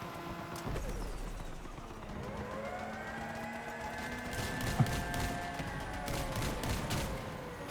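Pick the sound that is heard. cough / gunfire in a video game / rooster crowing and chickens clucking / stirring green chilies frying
gunfire in a video game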